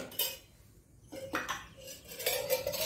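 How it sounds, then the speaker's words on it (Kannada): A small cooking pan is picked up and handled in a home kitchen, giving a few clear metallic clinks and scrapes against cutlery and dishes, close and moderately loud, separated by brief pauses. "ಇಲ್ಲಿ ನಾನು ಒಂದು ಸಣ್ಣ ಬಣಲೆಯನ್ನು ತೆಗೆದುಕೊಂಡಿದ್ದೇನೆ"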